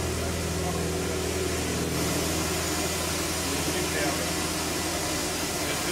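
Huge fans drying rice in a rice mill give a loud, steady, broadband roar with a low hum beneath it, unchanging and close throughout.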